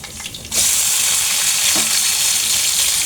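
Garlic and onion hit hot oil in a pan and burst into a loud, continuous sizzle after a brief quiet moment, frying steadily and close up.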